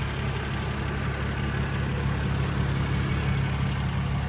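A BMW Z4 with a naturally aspirated N52 inline-six engine idles steadily, a continuous low, even rumble that stays close and unchanged throughout with no talking.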